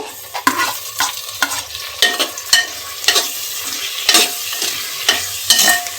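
Onions, mint leaves and tomatoes fry in a pan, a close sizzle broken by loud rhythmic scrapes of a spoon stirring every half second or so.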